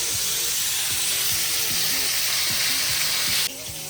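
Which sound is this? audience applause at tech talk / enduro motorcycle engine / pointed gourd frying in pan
pointed gourd frying in pan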